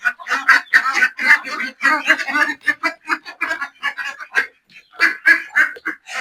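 Pet ducks quack in loud, rapid bursts close by, a busy chattering flock with brief pauses, no talk.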